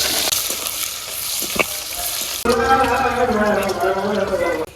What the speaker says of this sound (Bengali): কড়াইতে তেল দিয়ে দিলাম দারচিনি এলাচ দিয়ে দিলাম পিঁয়াজ কুচি দিয়ে দিলাম